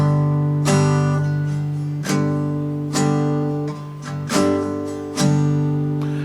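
An acoustic guitar strums a chord in a repeating down-up pattern, with heavier accents falling on the first and fourth strokes of each eight-stroke cycle, ringing close and clear with no voice.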